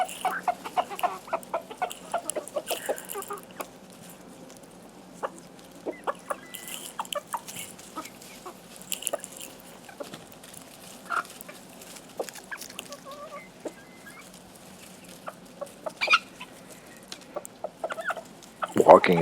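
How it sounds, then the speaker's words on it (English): Small black barnyard bantam chickens cluck and chatter intermittently in a garden in early October, close by, with soft scattered calls over a quiet background. "those are mostly my black barnyard bantams"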